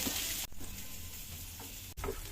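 Chopped onion and garlic fry in a pan with a dense, steady sizzle that stays loud and close throughout, briefly interrupted twice as if the pan is stirred or moved.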